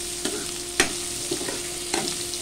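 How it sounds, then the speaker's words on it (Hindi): Potatoes fry in a pan for a fasting-day sabudana breakfast, and a spoon gives a few sharp scraping taps against the pan over a soft, steady sizzle. "आलू को भी थोड़ा भून लेते हैं।"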